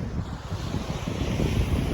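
Sea waves and gusting wind on the Gulf of Thailand shore at Hua Hin in the evening, a loud continuous rush of surf with wind buffeting the microphone, no voices.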